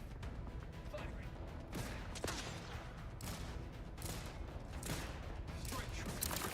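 Gunfire in The Outer Worlds 2 sci-fi combat, a steady run of loud shots and impacts over several seconds, mixed with game voices calling out in battle.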